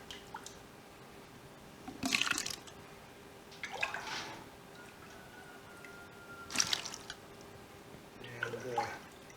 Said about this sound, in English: Now we're just going to try to, the best we can, ladle the curds into the mold.